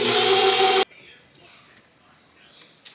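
Cake batter being mixed after a cup of boiling water is stirred in for holiday baking: a loud, close, steady whirring burst that lasts under a second and then cuts off, leaving near silence.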